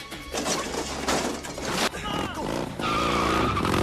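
A motorcycle speeds off in a film chase scene, with sharp tyre skidding and squealing bursts over a revving engine, mixed with other action noise and a narrating voice.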